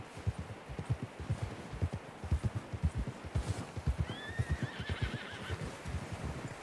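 A horse in Red Dead Redemption 2 whinnies in a high, wavering neigh near the end, over steady galloping hoofbeats that thud rhythmically throughout.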